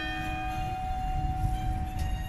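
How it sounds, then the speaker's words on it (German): A church bell rings, its sustained metallic hum steady and moderately loud over low background rumble, with no talking. "Glocke."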